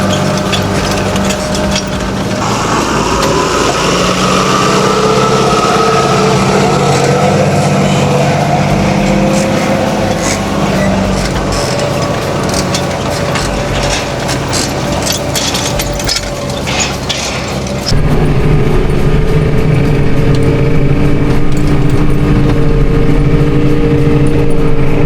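A tractor engine drones steadily and loudly while sowing wheat in a field after sweet corn. The engine's tone shifts partway through, then runs on as a constant, heavy rumble with no voices.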